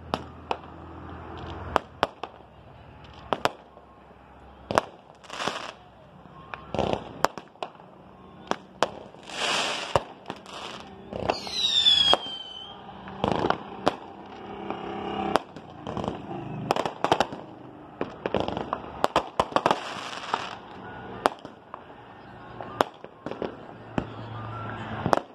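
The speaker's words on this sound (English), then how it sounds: "Fireworks. Happy 4th of July" Distant Fourth of July fireworks popping and crackling in scattered bursts, with a whistling rocket rising partway through, moderately loud against a quiet night.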